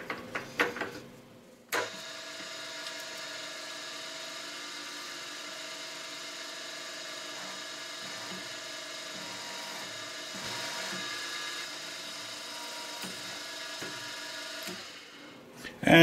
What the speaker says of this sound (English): I'm going to drill out both holes with the 18 millimeter annular cutter